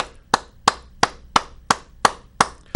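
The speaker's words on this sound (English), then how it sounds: "The crowd's going wild in the city of Manchester right now" Eight sharp, evenly spaced claps in a slow, steady rhythm, close and dry, with no cheering or voices between them.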